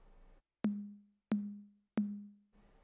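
Three evenly spaced strikes on tom 2 of an electronic drum kit's preset 808 kit give short clicky attacks and lower, droning tones that fade quickly, played alone and softly.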